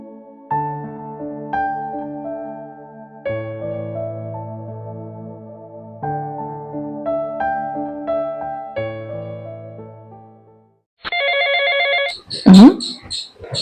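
A telephone rings in a short, bright burst of repeated electronic tones after a stretch of soft music, and a voice begins speaking as the ringing cuts off.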